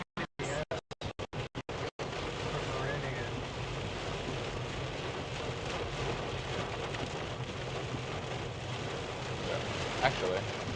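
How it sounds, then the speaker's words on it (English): Steady heavy rain drums on a vehicle during a storm chase in the Southeast tornado outbreak of March 15, 2025, a dense continuous wash opening with several sharp, clipped bursts before settling into an even roar. "We'll listen to some rain."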